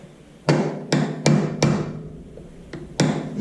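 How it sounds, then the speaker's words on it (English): Six sharp metallic strikes of a brass hammer on a brass rod, driving out a pin from an IHC Farmall Super MTA tractor rocker arm assembly, ring out at uneven intervals, each blow loud and close with a short ringing decay. "I'm using brass rod and a brass hammer"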